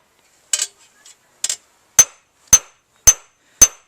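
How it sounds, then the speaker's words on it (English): A hammer peens a blade in cold forging, giving six sharp metallic strikes, close and loud: two lighter ones, then four evenly spaced ringing blows in a steady rhythm, with quiet between them. "it's one of my ways of getting a very steady, repetitive hammer cycle"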